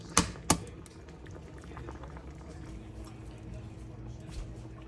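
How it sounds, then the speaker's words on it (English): Two sharp cracks ring out close together as eggs are broken into a pot of boiling turkey corn noodle soup, followed by a low, steady bubbling simmer that carries on alone. "Now that this is boiling, we're gonna crack 2 eggs in here and let them cook."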